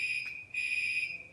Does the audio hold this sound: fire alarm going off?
yes